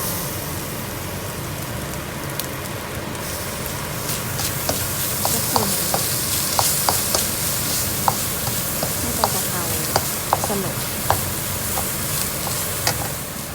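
Pork and holy basil leaves get stir-fried in a pan without oil, a steady sizzle with a spatula scraping and tapping in a loose, repeated rhythm throughout.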